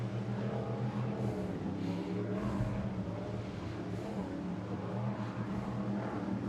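Racing powerboat engines run slowly at the Ocean City Grand Prix, a steady distant droning rumble with a low throbbing hum that holds evenly throughout.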